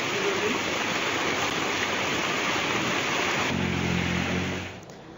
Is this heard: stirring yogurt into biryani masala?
no